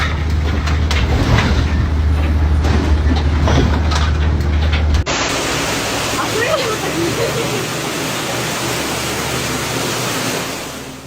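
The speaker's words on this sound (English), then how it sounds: "The sea put on a high jump show today. Towering waves created a stunning and unreal scene." Towering sea waves crash with a loud, broad roar that fills the clip, shifting abruptly about halfway through into a steadier rushing surge.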